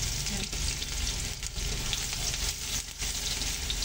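Garlic and ginger sautéing in hot oil for beef broccoli give a loud, continuous close sizzle with faint stirring throughout, with no talking.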